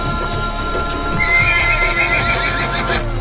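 A donkey brays close by in a loud, wavering, drawn-out call that rises and falls, with faint hoof movement underneath and no speech.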